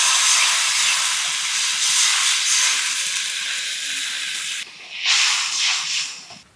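Water poured into a hot pan of frying turmeric and chili powder for egg biryani sizzles with a loud, steady hiss that runs nearly continuously, briefly dipping before flaring up again and fading at the end.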